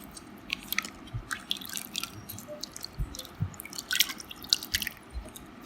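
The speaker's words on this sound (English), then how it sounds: "the next step is to clean the utensil in a cold water or normal water" A greasy utensil is washed by hand in cold or normal water. Close, steady splashing, dripping and squishy rubbing sounds continue without any talk.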